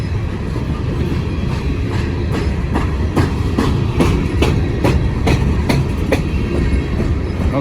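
A Norfolk Southern train rolls across a long trestle bridge over a city, its steady rumble broken by a regular clickety-clack of wheels passing rail joints, close and continuous.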